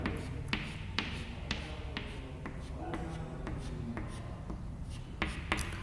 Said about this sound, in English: First, we have to draw the concave mirror.